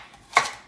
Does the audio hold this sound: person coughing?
no